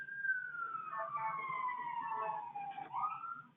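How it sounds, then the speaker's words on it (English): Siren from a fire truck or ambulance passing outside a window: one long wailing tone sweeping slowly down and then rising again, faint and distant, with no speech over it. "there is a fire truck or an ambulance going by outside my window that's very loud"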